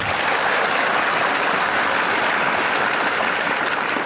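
Loud, continuous clapping from a large gathering of students at a live guidance session fills the whole stretch, thick and even, with no voices rising above it.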